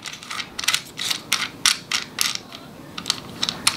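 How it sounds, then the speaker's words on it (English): Wireless lavalier microphone receiver from a budget Movo WMIC10 kit being screwed onto a camera mount, a close series of quick plastic clicking ratchet bursts in an uneven rhythm. "So to get this on, you just screw this on like this."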